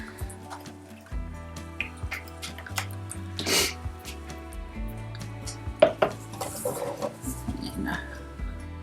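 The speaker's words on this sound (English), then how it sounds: "That's why I always start mixing by hand." Cold process soap batter being stirred by hand in a container, with soft scraping and tapping of the utensil against the sides in an irregular rhythm, close and fairly quiet, with background music.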